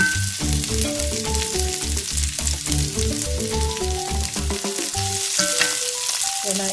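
Ginger roasting in a hot pan sizzles steadily and close, with a constant frying hiss throughout. A plucked string melody plays clearly over it.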